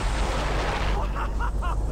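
An explosion in the video game Far Cry 3 rumbles as a deep, sustained boom, followed by a few brief higher crackling bursts toward the end.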